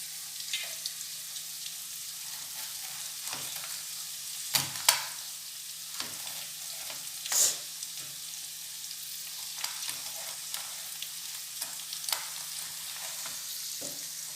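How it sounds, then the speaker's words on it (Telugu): Onion and garlic sizzle steadily in a hot pan, a continuous bright hiss broken by a few sharp crackles and utensil clinks, with no voices over it. "ఎర్రగడ్డ వేగిపోయింది"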